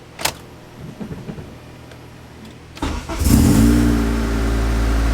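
A car engine cranks and starts after a VTEC solenoid repair, then settles into a loud, steady idle close by, following a quieter stretch of faint clicks and handling noises.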